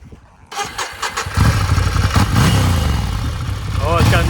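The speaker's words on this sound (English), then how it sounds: "But we want to hear this Ducati flash up." A Ducati café racer motorcycle engine cranks and fires up, settling into a loud, steady rumbling idle with a few revs near the end.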